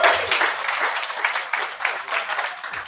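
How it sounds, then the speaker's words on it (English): An audience at a meet-and-greet claps for Super Bowl MVP Doug Williams, with crisp, loud, rapid hand claps in uneven bursts that ease slightly over a few seconds. "give the Super Bowl MVP, Mr. Doug Williams, a round of applause"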